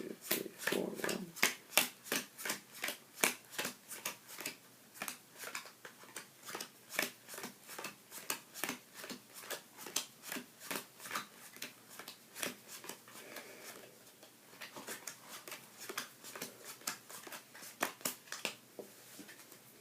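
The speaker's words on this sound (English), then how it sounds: "deal down cards into 4 piles" Playing cards are dealt one at a time into four piles for a card trick, giving a steady run of crisp, close flicks and soft slaps with no talk over them.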